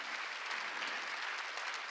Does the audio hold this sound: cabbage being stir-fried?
no